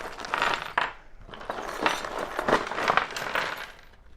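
Old Ossa keys clinking and jingling as they are handled and sorted, a continuous close run of small metallic chinks and rattles with no talk.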